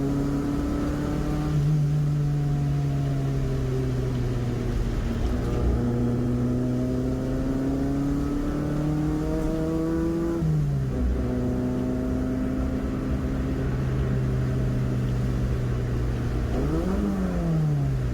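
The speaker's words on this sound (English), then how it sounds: "You just got to give it a bit of a rev." Clubmans saloon race car engine revving at a wet track meet, a loud continuous drone that climbs and dips in pitch with several throttle blips and one sharp drop partway through, close by.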